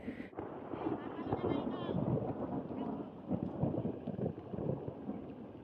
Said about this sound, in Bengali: দেখুন আকাশে মেঘ ডাকছে একটু বাদেই হয়তো ঝড় এবং বৃষ্টি নামবে